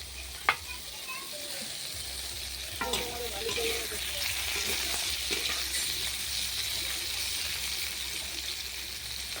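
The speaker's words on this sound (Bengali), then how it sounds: "প্রথমে আমি পটল ও সয়াবিনগুলোকে লাল লাল করে ভালো করে ভেজে নিলাম।" Pointed gourd and soybean chunks fry in an iron wok with a continuous close sizzle, broken by a few sharp clinks and scrapes of stirring.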